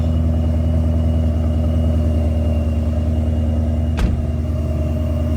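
A car engine running with its exhaust valves opened produces a loud, steady low rumble and drone, close and unbroken, with one brief knock partway through.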